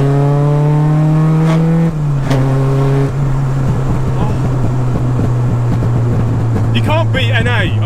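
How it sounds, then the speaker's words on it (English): Honda K20A2-swapped EG Civic engine revving hard toward the rev limit, a loud rising howl with gear shifts, up close. "ring that engine out, scream it all the way up to rev limit and just shift"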